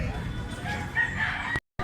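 A Gilmore Hatch gamecock crows nearby, a drawn-out strained call rising over a busy background of clucking fowl and noise, which cuts off abruptly near the end before sound returns.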